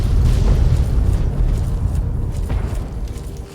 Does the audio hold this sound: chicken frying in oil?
no